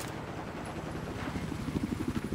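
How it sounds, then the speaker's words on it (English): Helicopter in Battlefield 4 video game, a steady engine drone with rotor chop growing into a throbbing pulse near the end, moderately loud with no speech. "Here's a helicopter."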